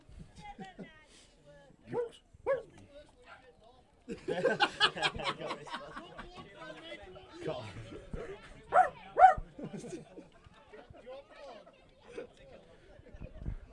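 A dog barks and whimpers in short yips and whines, mixed in with people chattering and laughing nearby.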